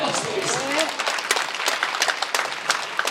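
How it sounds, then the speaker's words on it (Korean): A church congregation at a Korean prayer meeting claps loudly and steadily, the applause swelling under a preacher's excited shouting. "저는 정말 박수하겠습니다!"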